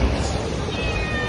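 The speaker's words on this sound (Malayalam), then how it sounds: "ഇവിടെ ഒരു പൂച്ചക്കുട്ടി വന്നു." A kitten meows close by on a Mumbai street at night, a short, insistent cry over a busy background hum.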